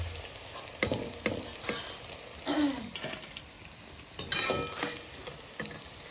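Round slices of paneer and potato fry in a pan until lightly browned, with a constant close sizzle broken by scraping stirs and occasional louder spatters, with no talking.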